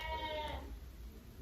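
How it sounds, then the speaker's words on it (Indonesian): A goat bleats once, a wavering nasal cry in the first half, then fades into faint background noise. "Abaikan suara kambing"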